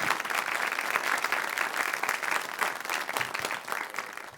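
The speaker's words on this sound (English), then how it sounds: "Let's give a round of applause to Alvar as well before we go" Steady, even applause from a conference audience after a talk at the Refresh 2023 event. A dense wash of many hands at moderate distance holds for several seconds, with no talk over it.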